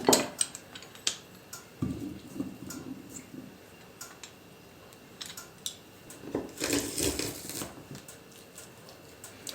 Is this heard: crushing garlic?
yes